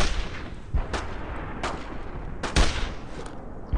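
Weapons firing in the World War II video game Brothers in Arms: Road to Hill 30, several loud gunshots cracking at irregular intervals over a steady rumbling battle background.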